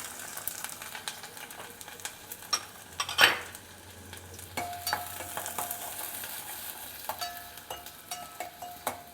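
Onion frying in about four tablespoons of oil in a pan, a faint, thin sizzle with scattered clinks and scrapes of a utensil against the pan and one sharper clatter, no talking.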